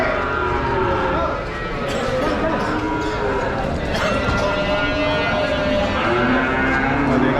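Cattle low repeatedly at the Vaniyambadi cattle market, a busy livestock fair, with moos rising over constant crowd noise and nearby chatter.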